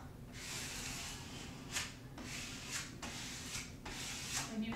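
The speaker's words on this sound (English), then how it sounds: "now what I'm gonna do is take my credit card here and I'm gonna just start scraping this onto the wall" Credit card scraping a large vinyl decal onto a bedroom wall, repeated soft rubbing strokes in a steady rhythm, faint and close with no talking.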